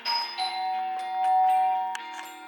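A doorbell chimes at home, its ringing tones sustained and layered for a couple of seconds, moderately loud with no talking.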